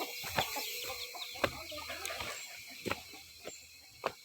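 Chickens clucking in a coop, several short sharp clucks spaced irregularly over a busy background of softer rustling and murmuring fowl sounds.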